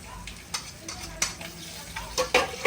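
A utensil stirs egg with bitter gourd in a frying pan, giving quiet scraping clicks and taps over a faint sizzle, irregular and close.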